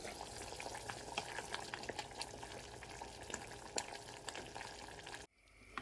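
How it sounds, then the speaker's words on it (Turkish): A pea and potato stew bubbles and sizzles in a pot with soft irregular pops, a spoon stirring through it, before the sound cuts off abruptly near the end. "Yemeği kaynıyor. Karıştıralım."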